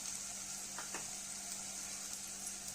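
Chutney masala roasts in a pan for mutton handi, giving a faint, even sizzle with soft stirring scrapes near the start, no talk.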